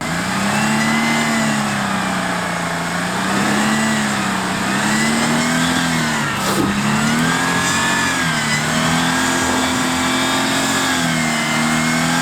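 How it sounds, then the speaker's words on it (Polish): A Jeep Compass engine holds steady high revs as it climbs a slippery grassy slope, a loud continuous drone wavering slightly in pitch as the tires slip for traction. "taka sytuacja, jak właśnie to ślizganie się na trawie na podjeździe, pokazuje to, co robią opony w terenie"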